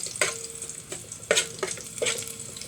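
Garlic sautés in a pan until golden brown, a soft steady sizzle broken by several sharp scraping stirs of the spatula, close and fairly quiet.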